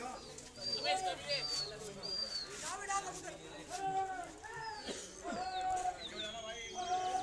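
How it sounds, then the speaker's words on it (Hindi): Pigeons coo repeatedly in soft, throaty phrases nearby, with a voice talking over them throughout. "और इसमें कबूतर हैं भाई"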